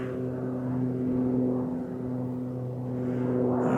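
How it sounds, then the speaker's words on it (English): A distant propeller airplane flying somewhere overhead, heard as a steady low droning hum with faint swelling and fading, continuous throughout with no talk. "There's definitely a plane up there somewhere."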